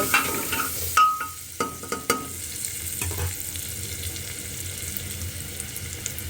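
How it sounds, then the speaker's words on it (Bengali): Onion frying with spices in a kadai crackles and sizzles steadily, with a few sharp clinks and scrapes of stirring early on and no talk. "যা যা মশলা লাগে সেগুলো দিয়ে আগে পেঁয়াজটাকে ফ্রাই করে নেব।"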